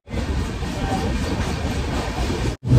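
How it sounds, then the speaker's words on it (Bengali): The Jammu Tawi Express pulls out of Panagarh station with a steady, loud rumble of wheels and carriages. The noise continues unbroken until a sudden brief cutoff near the end. "ট্রেন ছেড়ে দিল পানাগড় স্টেশন"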